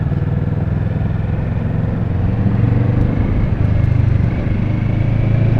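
A Kawasaki Vulcan S neo-retro custom motorcycle rolls along under steady power, its engine a low, even rumble with a slight rise in drone toward the end.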